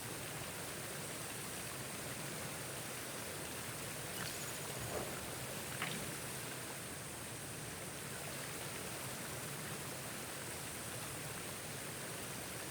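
Continuous rushing water from a waterfall in the dinosaur survival game The Isle, a dense, even hiss that holds at a constant level throughout with no talking.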